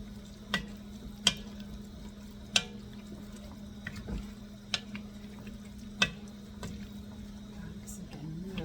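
Pork chili meat with its drippings is stirred in a hot pot, a low steady bubbling sizzle broken by sharp periodic clacks of a spoon against the pot, fairly quiet.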